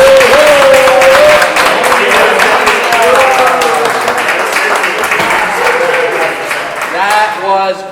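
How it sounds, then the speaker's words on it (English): A theater audience breaks into loud, dense applause that carries through, with cheering and voices calling out over the clapping. "Let's give a big round of applause to Senator."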